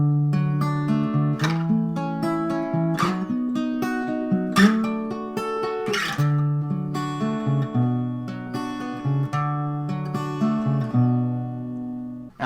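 An acoustic guitar plays the interlude of a song, strumming and picking ringing chords in a steady rhythm with bright attacks, played alone and close.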